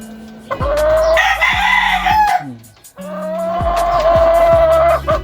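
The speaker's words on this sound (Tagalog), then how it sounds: "Yung ating mga nanalong manok" A fighting rooster crows loudly twice in a row, each call long and strained, with a few short clucks and thumps around them.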